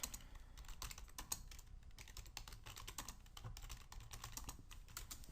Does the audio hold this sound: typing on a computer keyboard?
yes